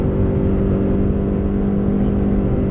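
Subaru BRZ sports car engine droning steadily at sustained high revs from inside the cabin, a loud constant hum with no pauses, with voices faintly in the background.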